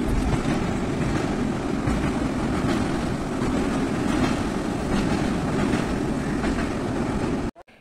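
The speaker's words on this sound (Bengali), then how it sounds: "এবার ট্রেনটা সবে মাত্র ছাড়লো।" A train pulling out of Howrah station makes a steady, loud rumble with a faint clickety-clack of wheels. It runs unbroken and cuts off abruptly at the end.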